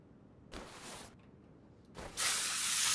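Two bursts of lubricant sprayed from an aerosol can onto a car gearbox and clutch area: a short hiss, a pause, then a longer, louder spray, close up.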